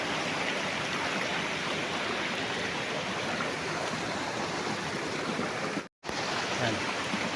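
A river flows along the boundary of a farm lot in Liliw, Laguna, a loud steady rushing wash of water close to the microphone, broken once by a brief dropout near the end.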